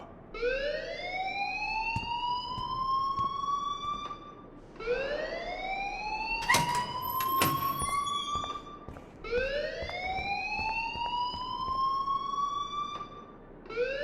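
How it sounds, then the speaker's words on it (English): A fire alarm in the Life is Strange video game wails in three long rising sweeps, each holding a steady tone, with a few sharp clicks and knocks in between. "please turn off that alarm since that's your job"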